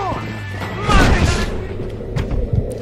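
Shots fired at army soldiers in the Red Dead Redemption video game, a cluster of loud booming reports around the middle of the clip followed by a few lighter thuds, over a steady game background.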